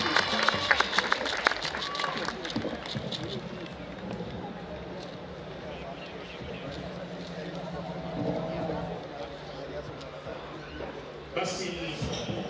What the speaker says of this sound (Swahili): Tuwashangilie kwa makofi tafadhali wanapoondoka.